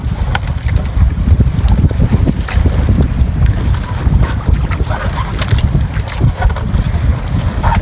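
Steady, loud wind buffeting the microphone over the rumble of a fishing boat moving on water off Batangas, continuous throughout with no speech.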